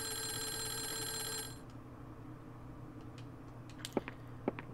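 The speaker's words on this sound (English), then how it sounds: "Would you be so kind as to answer the phone so that I don't have to listen to this thing ringing?" A telephone rings in the video game Clock Tower, a bright rapid electronic trill that stops after about a second and a half, leaving a quiet hum with a few faint clicks.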